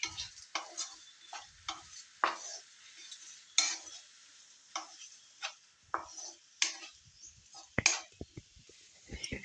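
A spoon scrapes and clinks through a ridge gourd and drumstick curry in a pan after salt goes in, giving a series of sharp, irregular stirring knocks over a faint background sizzle.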